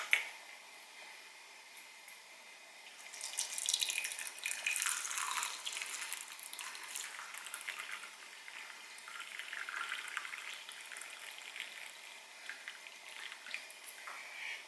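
Hot water is poured over a tea strainer in a steady, trickling splash. It starts after a brief quiet, runs continuously for several seconds and stays fairly soft and close, with no talking.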